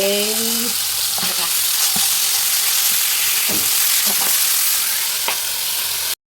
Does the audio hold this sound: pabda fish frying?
yes